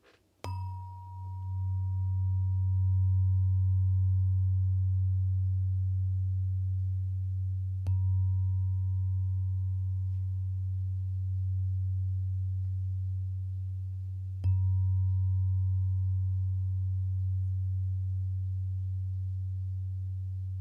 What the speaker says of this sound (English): you're going to get some love tones, healing tones coming in 3, 2, 1